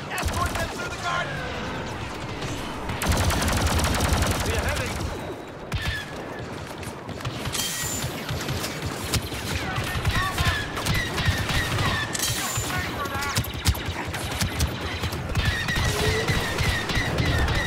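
Dense blaster fire from a Star Wars Battlefront II battle against Imperial troops: rapid overlapping shots and bursts, loud and continuous throughout, with crashes, game music and effects mixed in.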